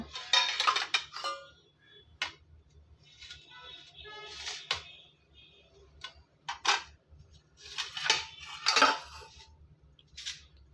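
A hot pan scrapes and clinks against a plate as cooked wheat flour for idiyappam is tipped and knocked out of it, giving bursts of metallic clatter and scraping with short pauses between.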